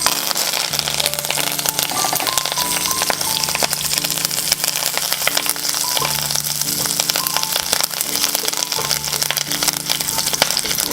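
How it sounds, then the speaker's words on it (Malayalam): Curry leaves crackle and sizzle in hot coconut oil, a dense, continuous spitting and popping close up, with faint background music and no talk. "ഇനി നമുക്ക് കുറച്ച് കറിവേപ്പില എണ്ണയിലേക്ക് ഇട്ട് കൊടുക്കാം."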